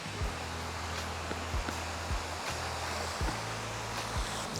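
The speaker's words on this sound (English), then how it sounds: "we are in this little water fountain area called Marina Barrage" Water fountain at Marina Barrage, heard as a constant rush of splashing water with low rumbling bumps and a faint hum underneath, and no one speaking.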